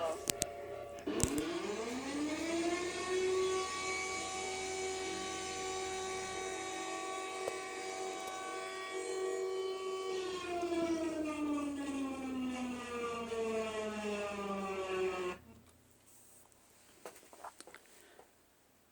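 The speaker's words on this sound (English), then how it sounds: "that one is actually real, considering that it's part of their siren system" A mechanical emergency alert siren from a public siren system winds up to a steady, loud droning wail, holds for about ten seconds, then slides down in pitch and cuts off, leaving faint background noise.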